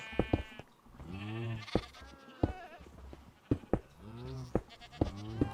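Goats in a survival video game bleat repeatedly, several short wavering calls close by with brief gaps between them and no talking.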